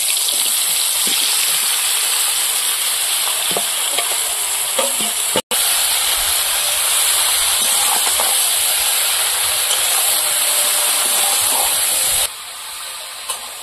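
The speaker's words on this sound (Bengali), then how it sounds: "এবার কচুর লতিগুলো দিয়ে দেবো।" Taro stolons dropped into hot oil with bay leaf and whole cumin, a loud, close, continuous sizzle and hiss with brief stirring clatters, a sudden cut near the middle, then the frying eases quieter at the end.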